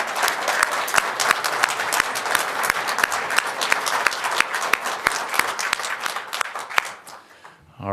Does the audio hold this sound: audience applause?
yes